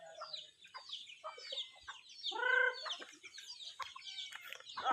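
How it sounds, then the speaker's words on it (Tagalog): Farm chickens cluck and chatter in a quick, irregular series of calls, with one louder drawn-out squawk midway, moderately close in a quiet rural setting with no talking. "Mga buhi sa kong amahan. Mga manok."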